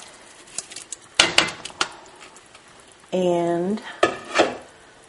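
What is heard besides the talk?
adding shrimp and crab into gumbo pot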